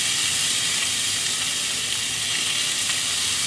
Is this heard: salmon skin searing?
yes